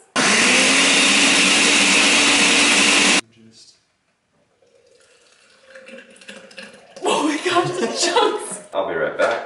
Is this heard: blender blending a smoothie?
yes